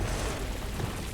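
An Incendio fire spell cast in Hogwarts Legacy, a short, loud, dense roaring whoosh that fills the whole moment.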